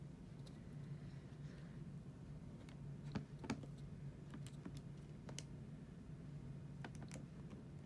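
Calculator keys tapped in a quick run of light, sharp clicks over a steady low hum, spaced unevenly with a few louder presses near the middle.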